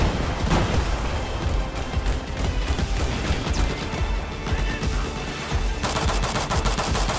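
Dense, continuous automatic gunfire from the Battlefield 4 video game, rapid shots layered with booms and battle noise throughout, loud and close with no voices.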